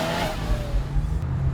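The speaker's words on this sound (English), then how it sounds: "Clutch in and handbrake, turn in, put it back first gear and go." A car performing a handbrake turn, clutch in, handbrake pulled, then back into first gear to drive off; a steady engine drone with a faint tire note runs throughout, close and fairly loud, with no talking.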